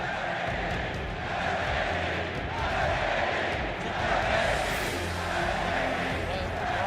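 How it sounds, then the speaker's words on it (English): A large arena crowd at the 2016 League of Legends World Championship grand final roars and chants for SKT, a dense sustained swell of voices that rises and falls. "the crowd erupting in chants for SKT"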